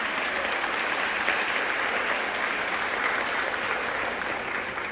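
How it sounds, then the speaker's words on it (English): An audience bursts into sustained applause honoring women, a full, even roar of many clapping hands that holds steady for several seconds with no talk over it. "Let's give all the women a round of applause"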